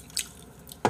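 Crispy vegetable tempura eaten with tteokbokki, two quick close crunchy bites a moment apart, soft and wet-edged, with no talking.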